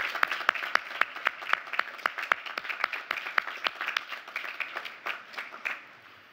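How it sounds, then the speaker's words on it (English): A commencement crowd applauds the honorands, with distinct individual claps standing out sharply and rhythmically over a softer wash of many hands, fading slightly toward the end. "How about a round of applause for our 3 honorands and all they've done for us this weekend?"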